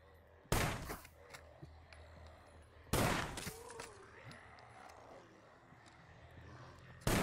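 Gunfire in a city in the game SCUM: two sharp, loud bursts of shots a couple of seconds apart, with softer distant pops and echo between them and a third burst starting at the end.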